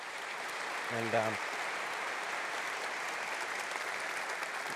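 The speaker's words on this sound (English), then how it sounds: "I'd really like to give them a round of applause, because they've done a great job." Steady applause from a seated audience fills the room, broad and even throughout, with a lone voice briefly speaking over it near the start.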